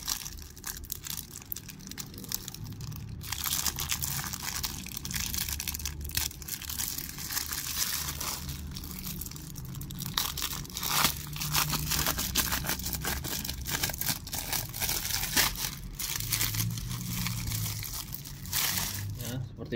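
Plastic packaging of a Fantech P31 gaming set crinkles and rustles steadily while being opened up close, under continuous low background noise and faint talk.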